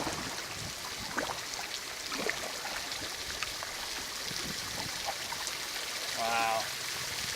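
Water of the Buffalo River pushes around a bend with a soft, continuous rushing flow, fairly faint and even throughout, and a brief voice-like sound rises near the end.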